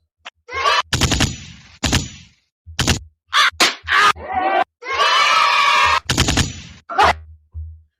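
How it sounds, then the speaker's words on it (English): A podcast sound-effects machine fires gunshot effects in several sharp, loud bursts, some rapid and clustered, mixed with longer noisy effect sounds and short gaps of silence. "I've got this podcast machine. I've been working on how I can do things like I can do the gunshot."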